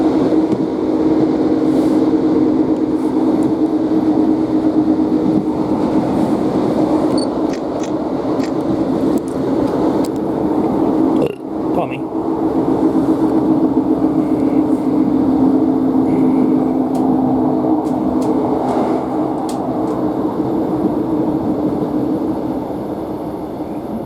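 A Northern class train runs on rails near Buxton, a steady close rumble and hum from inside the carriage with occasional clicks and a brief dip midway, lasting the whole stretch.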